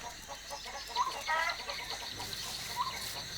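Chickens on a riverside farm let out a few sparse, short clucks at moderate distance, scattered over a low, steady background hiss.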